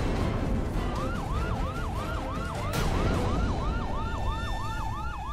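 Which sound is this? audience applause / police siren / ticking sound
police siren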